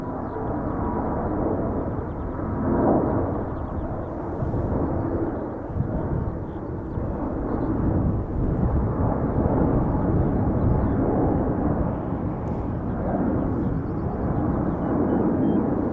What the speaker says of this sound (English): Singapore Airlines flight 323 outbound to Singapore, A350-900.